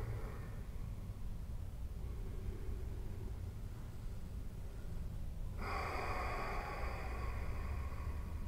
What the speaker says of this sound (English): Breathe in deeply.